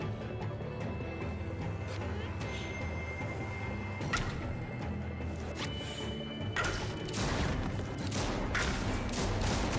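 Gunfire in The Walking Dead: The Final Season video game comes as several sharp reports in the second half over a steady game rumble, with some talk underneath.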